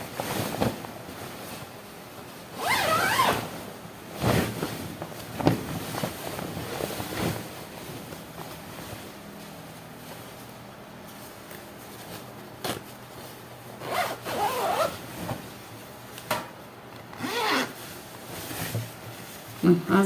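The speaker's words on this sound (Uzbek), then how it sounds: "Endi o'ngisini o'girib zamok yopib tepani zakrepka qilamiz." Zipper being pulled shut on a sewn duvet cover, several brisk rasping zips in bursts separated by quieter handling and rustling, close to the microphone.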